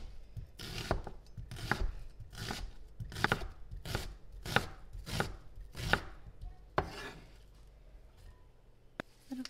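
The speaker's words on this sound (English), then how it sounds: "next is the red onion. This I am definitely going to cut in half." A knife chops through a halved red onion on a cutting board, about ten crisp, evenly spaced strokes close up, then slowing to a couple of final cuts, no talking.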